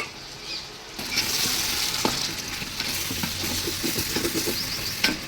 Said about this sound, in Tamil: சேர்த்துட்டு நல்லா வந்து மிக்ஸ் பண்ணிக்கோங்க. காய் வந்து நல்லா வதங்கட்டும்.